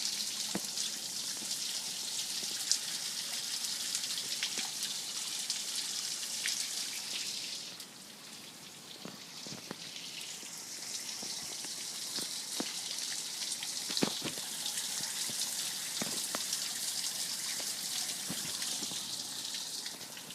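Rainwater trickling and dripping into a small street drain hole in a neighborhood after a sun shower, a steady close hiss of running water with scattered drips and no voices.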